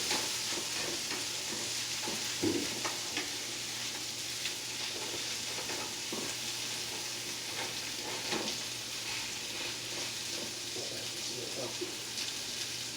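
Onions sizzle steadily in a hot pan at home while being stirred, with occasional soft scraping clatters over the constant frying hiss.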